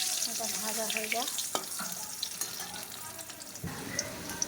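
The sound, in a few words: potatoes frying in oil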